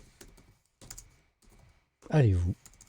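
A colourful gaming keyboard is tapped in short bursts of keystrokes, faint and close, with pauses between, followed by a brief louder voiced sound.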